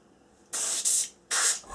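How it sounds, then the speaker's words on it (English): An airbrush sprays at turned-down low air pressure, producing two close, soft bursts of airy hiss followed by a brief pause and a third burst, each about half a second long, with no talking. "if I just turn the pressure right down, so hopefully you can hear that pressure's right down"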